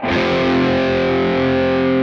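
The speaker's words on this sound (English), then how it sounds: "I'm playing through, I think, a Marshall on my Kemper with a bit of reverb and a bit of chorus" Sustained distorted electric guitar chord through a Marshall amp model on a Kemper, ringing out with a shimmering chorus and reverb tail, loud and steady.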